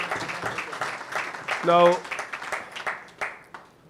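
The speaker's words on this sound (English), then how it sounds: "Let us get another round of applause" Audience applause at a panel event, moderate clapping from a crowd in a hall that swells briefly and tapers off, with someone speaking over it toward the end.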